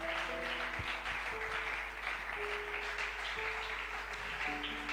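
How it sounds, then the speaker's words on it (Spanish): Congregation clapping during a church service, a continuous dense spread of applause held steady for several seconds at moderate distance, with a faint electrical hum and scattered tones underneath. "Dale ese aplauso fuerte al Señor."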